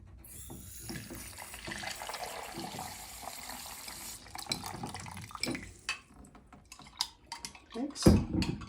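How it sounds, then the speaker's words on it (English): Water poured into a pan of ground spices in a home kitchen to mix a homemade spice blend for potato curry: a steady rushing stream, then scattered clinks and clatter of utensils and cookware toward the end. "So I'm going to fill it with water and we can mix it."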